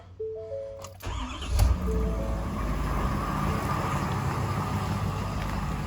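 A 2020 Ford Super Duty pickup truck engine cranks briefly on a cold start, then catches and settles into a steady, loud rumbling idle close by, with a light whine above the low drone.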